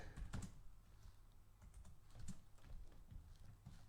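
Typing on a Spanish-layout computer keyboard, a run of close, irregular key clicks with a few louder strokes, continuing steadily throughout with no talking.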